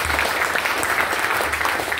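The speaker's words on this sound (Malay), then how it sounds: "Berikan tepukan kepada Yogyakarta Perniagaan Kristoris." Steady audience applause at a business talk, even continuous clapping throughout with a faint hum beneath.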